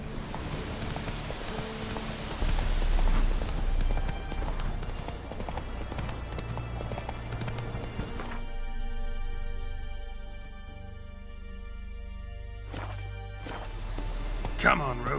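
Hooves of the horse Roach clip-clop at a gallop in The Witcher 3: Wild Hunt, a steady rhythmic beat over game ambience and music, with someone talking over it.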